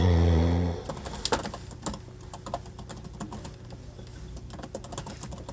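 Login details being typed on a computer keyboard: a quick, irregular run of close key clicks and taps after a brief low hum fades at the start, with no talk.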